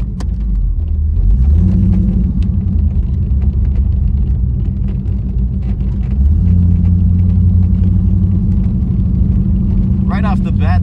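A 1985 Chevrolet Camaro IROC-Z's 305 V8 engine with automatic transmission rumbles deeply while driving, its low drone shifting pitch as it accelerates and changes gear, close and loud.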